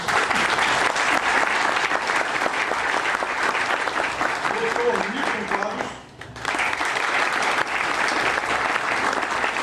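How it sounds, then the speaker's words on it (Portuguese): Audience applause at the founding ceremony of the Academia de Letras e Artes de Castro Alves, a dense, steady clapping that fills the room, briefly thinning midway before surging again, with a voice speaking over it. "para quem eu peço uma salva de palmas, por favor"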